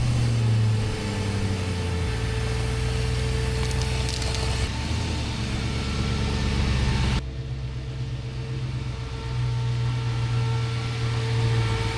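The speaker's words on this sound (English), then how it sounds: "I'm going to hop in the Jeep. I'm going to get it moved and put in the driveway." A Jeep's engine idles and rumbles steadily as it is driven into a driveway, giving a continuous low hum with a shift in tone partway through and no talking.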